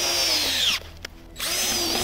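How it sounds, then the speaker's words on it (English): Power auger drill boring a hole 12 to 14 inches deep into the ground for trapping: a loud close whine that cuts out briefly mid-run, then spins up again steadily. "I'm gonna go ahead and drill this out."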